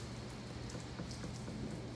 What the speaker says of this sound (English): Is anybody else getting rain?